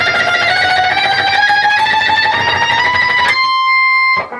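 A single picked electric guitar note rings out with heavy sustain and distortion, holding steady before being abruptly cut off, alone and close.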